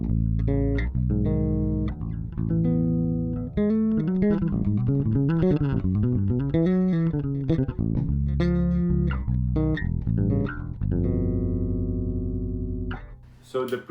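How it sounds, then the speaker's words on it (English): A dry Sadowsky MetroExpress electric bass, preamp flat, plays a busy run of plucked notes and slides, deep and upfront with no effects, ending on a sustained low note. "doing sound clips with this bass"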